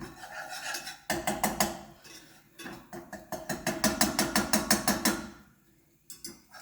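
Flour roux being whisked in a pan, producing rhythmic bursts of scraping, clicking strokes that pause and resume, fairly close, with no talking.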